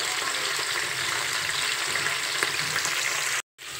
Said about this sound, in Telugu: చూసారా అలా ఫ్రై అవుతుంది